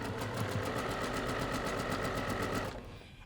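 Sewing machine chain-piecing quilt pieces at a 2.0 stitch length, a fast even needle rattle running steadily up close before stopping abruptly near the end.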